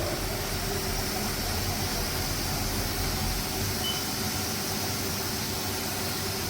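A steady, loud whirring hum of a CNC milling machine spindle on a Haas control running a tool at 2000 rpm, constant throughout with no pauses or talk.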